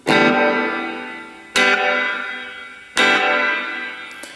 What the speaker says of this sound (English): And reverb is just reverb.